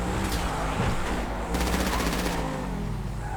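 Rapid automatic gunfire in GTA on a roleplay server, a fast rattling burst of shots over a steady background roar, fairly loud and close.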